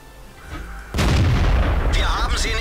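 Tank cannon in World of Tanks firing one loud, sudden blast that cuts in abruptly and rolls into a sustained rumbling boom, with someone talking over it.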